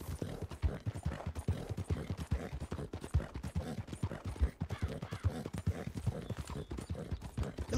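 Rapid, steady clip-clop of a horse galloping in Red Dead Online, close and continuous, with a faint game soundscape behind.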